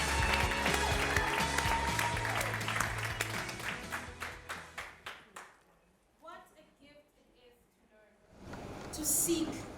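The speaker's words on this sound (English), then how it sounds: "I told you, don't be shy to clap." Audience at an awards ceremony claps loudly and densely, then thins into scattered, fading claps. A speaker's voice follows in a quieter stretch and then grows louder near the end.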